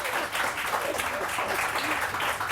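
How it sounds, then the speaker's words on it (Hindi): Studio audience of a Pakistani morning TV show, Subah Saverey Samaa Kay Saath, clapping in a thick, unbroken roar of many hands that stays loud and even throughout the short burst, with no speech. "अरे मारो ताली इस पे"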